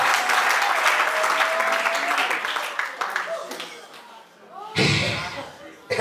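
A church congregation applauds in a dense burst of clapping that gradually thins, then swells again briefly near the end, with voices speaking over it.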